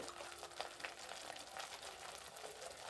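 Misal ingredients sauté in hot oil in a pan, giving a soft, steady, even sizzle with no pauses and no voices.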